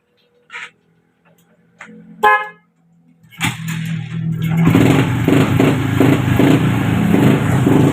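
Motorcycle engine running steadily after repair of a misfire that happened with the lights on, preceded by a few short clicks and a brief horn beep, then a loud, continuous idle close by.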